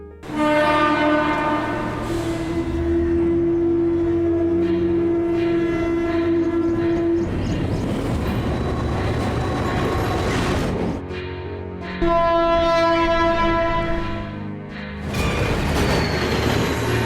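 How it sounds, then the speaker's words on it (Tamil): A train at Taramani railway station in Chennai, loud and close, with a long sustained horn blast over rumbling wheels and carriage noise, then a second shorter horn sounding near the end. "railway station,"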